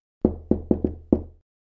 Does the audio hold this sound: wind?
no